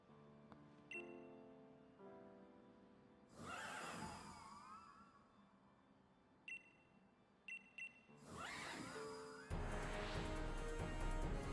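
A horse Pokémon whinnies in a Pokémon video game, with a loud rising cry standing out twice among chiming game music and bleeps before a bright burst at the end.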